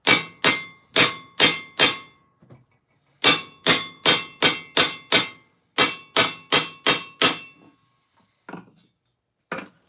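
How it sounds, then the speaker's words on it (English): Hammer blows on steel armour as its edge is rolled and flared, ringing sharply in three quick bursts of four to six strikes each, with a few lighter taps near the end. "I'm going to grab another hammer. This one. And I'm going to roll and flare the edge out a little bit."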